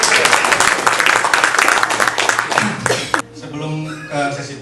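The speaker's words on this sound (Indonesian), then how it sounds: "tepuk tangan dong buat Bu Ami" A talk-show audience applauds for Bu Ami at her farewell event at the Indonesian health ministry, with dense clapping for about three seconds before it breaks off into quieter room sound and a voice.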